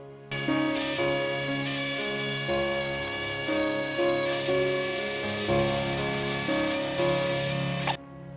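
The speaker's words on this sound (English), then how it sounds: "Now I'm going to use one of these darker ones with the Dremel to go over the tree to buff it out" A Dremel rotary tool buffing a Christmas tree ornament, a loud, close high-pitched whine that shifts pitch as it presses into the workpiece, starting and stopping sharply.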